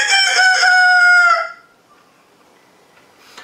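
A person imitates a rooster crowing with one loud, drawn-out, wavering crow of about a second and a half, followed by near silence.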